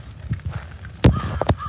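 Crows caw loudly in a park, giving two sharp, close calls about half a second apart over a backdrop of fainter, scattered squawks and light rain.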